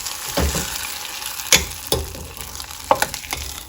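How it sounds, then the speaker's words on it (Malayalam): A spoon stirs grated coconut into a pan of pumpkin and cowpea erissery, a Kerala sadya dish, with close scraping strokes and a few sharp knocks over a soft steady sizzle. "അപ്പോൾ ഇതിലേക്ക് നമ്മൾ വെച്ച തേങ്ങ ഇതിലേക്ക് ആഡ് ചെയ്ത് കൊടുക്കുക. എന്നിട്ട് ഒന്ന് നല്ലോണം ഒന്ന് മിക്സ് ചെയ്ത് കൊടുക്കുക"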